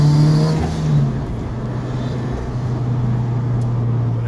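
A 2013 Scion FR-S with a stage 2 turbo setup hums loudly and steadily, its engine tone dipping slightly after a brief rev before settling into a sustained drone.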